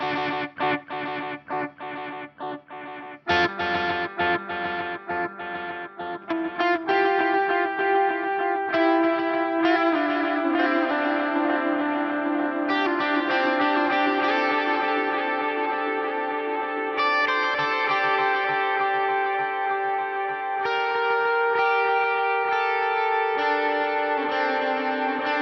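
A Sonulab StompStation dual delay pedal processes a distorted electric guitar, its sustained chords and melodic notes trailing repeating echoes with a spacious, reverberant wash, steady and loud throughout with no talking.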